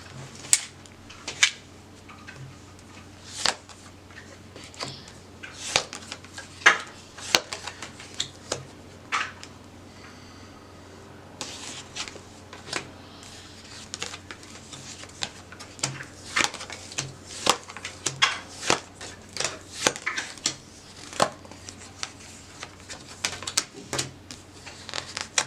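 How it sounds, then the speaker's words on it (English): Tarot cards shuffled by hand in a quiet room, a string of crisp riffling and slapping bursts scattered irregularly across the stretch, close and fairly clear, with no talking. "One more shuffle for Taurus sun."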